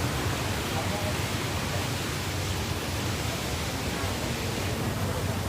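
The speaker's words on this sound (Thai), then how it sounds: "น้ำไหลครับ" Floodwater rushes through a breached earthen levee at Ban Samrong in Yang Tha Chaeng subdistrict, Kosum Phisai district, Maha Sarakham, Thailand, a steady, loud, broadband roar that continues without a break.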